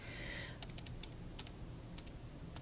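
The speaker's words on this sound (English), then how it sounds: "Just in my calculator, you can hear the clicking, I'm sure." Calculator buttons click in a quick irregular run of about ten light taps while someone double-checks triangle angles, close and faint after a brief hiss at the start.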